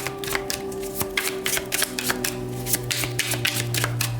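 Tarot cards shuffled near at hand, a fast, steady run of crisp riffling snaps, loud and continuous with no talking.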